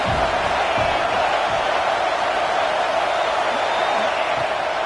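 A stadium crowd at a UCLA football game roars steadily during a third-down red zone play, a dense continuous wash of cheering that fills the space without pause.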